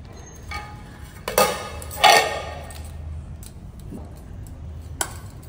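A pot lid comes off mutton biryani, a couple of close metallic clanks and scrapes followed by a few lighter taps in a quiet room.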